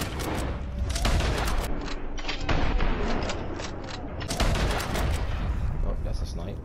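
Gunshots in the online mode of Red Dead Redemption 2, sharp cracking reports and booming blasts in a busy firefight, loud and close, with people talking over the shooting.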